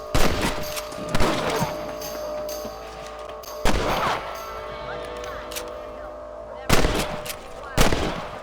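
Rifle gunfire in the Red Dead Redemption video game: five sharp, loud shots spaced irregularly over a steady game ambience, with no talk over them.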